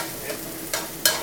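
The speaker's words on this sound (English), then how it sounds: "We're gonna stir fry that a little bit." Scallion and garlic stir-frying in hot oil for Taiwanese minced pork, a steady close sizzle with two sharper bursts as the pan is stirred, no talking.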